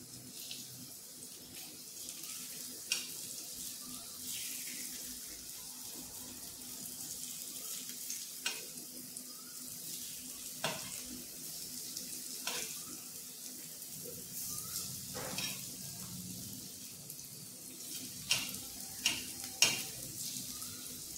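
Vegetable slices being sautéed in a pan for masoor amti, with steady soft frying and sizzling broken by periodic sharp scraping clicks of a spatula stirring, close and continuous throughout.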